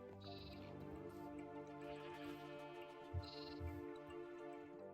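Goat bleating in the Terrafirmagreg video game, two short bleats standing out over a steady droning game soundtrack, fairly close with no talk.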